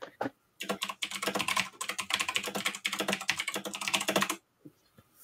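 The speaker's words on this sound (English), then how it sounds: "Sounds like a typewriter, too." Fast, continuous typing on a computer keyboard, a dense run of close, crisp key clicks lasting several seconds, then stopping abruptly.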